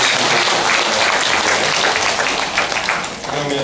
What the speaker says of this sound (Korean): 먼저 박이승 교수님 박수.